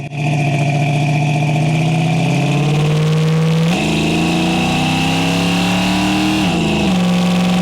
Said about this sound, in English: Exhaust has all basically been done. Sounds really good going down the road.